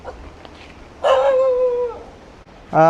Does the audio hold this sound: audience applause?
no